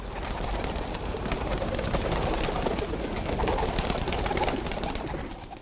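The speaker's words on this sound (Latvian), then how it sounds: "Vērojot, kā skaistie pasta baloži viens pēc otra paceļas debesīs, aizraujas elpa" A flock of homing pigeons cooing and taking off outdoors, a dense continuous rush of wing flapping and fluttering mixed with cooing, loud and close throughout with no speech.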